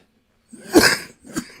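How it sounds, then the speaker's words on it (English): Two coughs from a person during a casual interview, a longer harsh cough followed by a shorter one after a brief pause, close and fairly loud with no talk. "I keep coughing every time I laugh."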